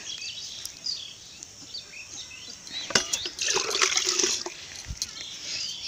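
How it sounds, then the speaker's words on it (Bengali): Flowering garden plants being watered outdoors, a soft patchy splashing and trickle that swells in the middle of the clip, with faint bird chirps in the background. "ফুল গাছে জল দিচ্ছি"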